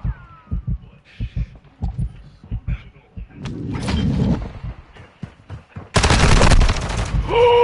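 Rapid gunfire in a Call of Duty match fires as several bursts of sharp shots, building into a dense, loud barrage near the end, while players talk between and over the shots.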